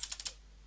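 A few quick keystrokes on a computer keyboard during a Linux command-line session, four soft clicks in a brief burst and then quiet.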